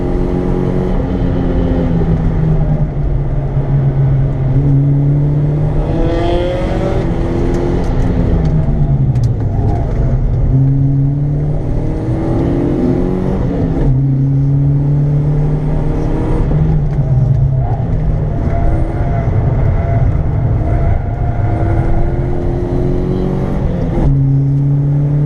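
A powerful high-horsepower car revs hard on the Three Sisters race track in Wigan, its loud engine rising and falling through repeated gear changes across the whole stretch, close and dominant.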